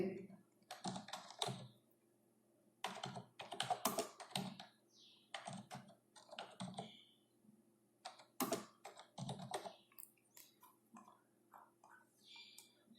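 Bursts of typing on a computer keyboard, irregular clusters of quick clicks separated by short pauses, fairly close and clear, with faint background hum and occasional soft voice sounds.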